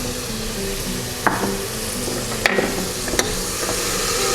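Coriander leaves and fresh mint sizzle in a pan of mushroom biryani masala, a loud steady frying hiss broken by a few sharp spoon knocks against the pot.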